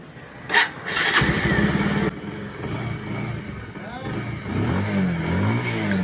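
A BS6 motorcycle engine is cranked with a couple of sharp clicks, then fires and settles into a steady mid-pitched idle with slight revving, while someone speaks over it.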